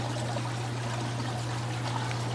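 Steady rushing water from a pump flow test at full power, about 12,000 gallons per hour, a constant dense gush with a low hum beneath and no talk.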